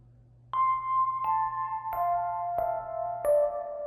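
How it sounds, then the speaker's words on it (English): Bright, bell-like 80s DX7-style FM synth notes struck one after another in a descending pattern, each with a glassy attack and ringing decay over a low hum. "There's also this sort of DX7, kind of like that classic 80s synth sound here."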